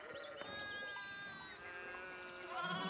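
Sheep bleating in the video game Pentiment, a few wavering, drawn-out bleats heard faintly over a quiet ambient background.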